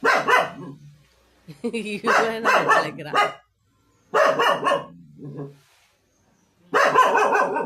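Several dogs bark in loud, repeated bursts with pauses between them as dog catchers arrive, and people talk nearby.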